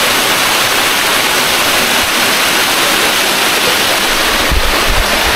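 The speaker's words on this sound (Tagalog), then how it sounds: "Lakas ng agos" Strong stream of water rushing through a forest, a steady, loud, dense roar of flowing current that continues without pause, with a few low thumps near the end.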